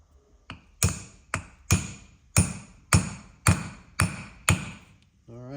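Eight sharp metallic taps of a socket driving a seal into a 4L80E transmission, evenly spaced about half a second apart, close and ringing briefly after each hit.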